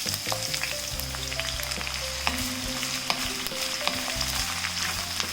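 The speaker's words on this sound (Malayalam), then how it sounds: "നമ്മൾ ഈ സ്ലൈസ് ചെയ്ത് വെച്ചിരിക്കുന്ന സവാള ഇല്ലേ, അത് ഇതിലേക്ക് ഇട്ടിട്ട് വഴറ്റി കൊടുക്കാം" Sliced onions sauté with cloves in a hot pan, a close, steady, continuous sizzle with faint stirring and a low tonal hum in the background.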